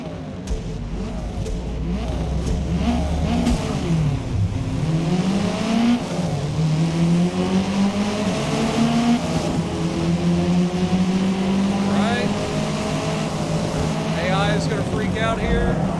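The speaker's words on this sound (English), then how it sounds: "Subaru is the best sounding four-cylinder out there." Subaru four-cylinder race car engine in Forza Motorsport revs steadily and loudly throughout, pitch rising and falling with gear changes, while someone talks over it.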